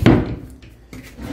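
Someone opens a wooden drawer in a wardrobe being emptied during a move: a sharp close scrape and thud at the start, then a quieter second slide about a second later.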